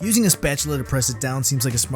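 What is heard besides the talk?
None of the usual background noises is heard.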